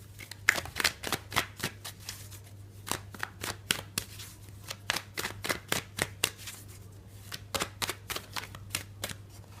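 Tarot cards being shuffled and drawn at close range: a quick, irregular run of crisp papery riffles and flicks repeating throughout, fairly quiet over a low steady hum, with no talking.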